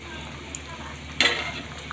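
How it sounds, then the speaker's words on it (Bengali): Whole fish pieces dropped into a pot of boiling Bengali fish curry sauce, with a sudden burst of sizzling and bubbling partway through over a steady background simmer. "এরপরে আমি এর মধ্যে মাছ দিয়ে দেবো তো মাছগুলো দিয়ে দিলাম"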